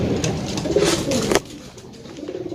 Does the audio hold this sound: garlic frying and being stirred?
no